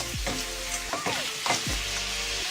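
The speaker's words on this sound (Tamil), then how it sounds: "நல்லா சிக்கனில் பெரட்டி விட்டு ஃப்ரை பண்ணிக்கோங்க" Chicken tossed with masala powder and frying in a pan for a chicken kulambu: a steady, close sizzle with a few scraping stirs of the spoon, no voices.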